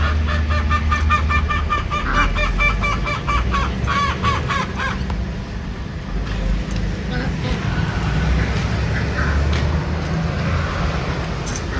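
Geese or ducks honk repeatedly near water in a loud, rapid series of nasal calls that fade after a few seconds, leaving outdoor background noise and people talking.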